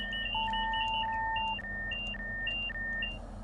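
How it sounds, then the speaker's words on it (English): Train cab alarm in Train Sim World 6, a steady electronic tone with a repeating pattern of short high beeps, loud and continuous over a low engine hum with no talking. "Acknowledge the alarms."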